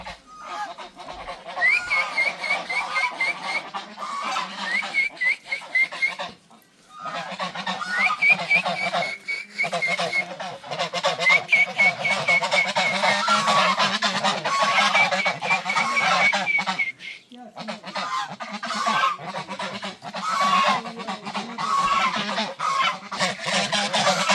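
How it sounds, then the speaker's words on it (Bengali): A flock of domestic geese in a Bangladeshi village honking loudly and repeatedly, with overlapping nasal calls close by and only short pauses throughout, no talking. "ওয়াও কত সুন্দর রাজহাঁস"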